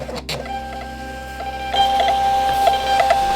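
A Bluetooth thermal label printer runs, its small motor whirring steadily with a faint tonal hum and quick clicks as the label feeds, close up with no talking.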